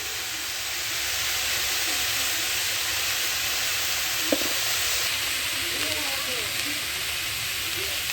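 Onion and green chilli frying in a pan, giving a steady, loud, broad sizzle that runs without a break, with faint stirring scrapes now and then.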